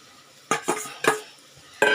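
Bitter gourd pieces get tipped into a pan of cooked masala and stirred, producing four distinct scraping, clattering bursts of spoon on pan over a low background hiss.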